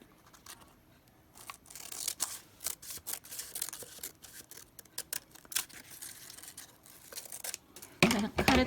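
Scissors snip through craft paper for a Dollar Tree decoupage candle project, making a close series of quick, irregular crisp cuts that grow busier and louder toward the end.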